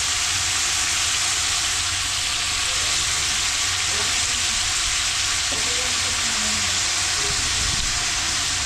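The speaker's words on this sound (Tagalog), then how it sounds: "Yung mga belly, gigisa lang natin sa patis." Pork belly sautés in fish sauce with a loud, unbroken hissing sizzle, a low rumble beneath it and faint scattered clinks.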